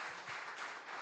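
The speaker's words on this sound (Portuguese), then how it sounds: "Você pode aplaudir o Senhor por essa palavra?" Congregation clapping in a church during an evening service, a steady, even patter of many hands heard from a distance and fairly quiet.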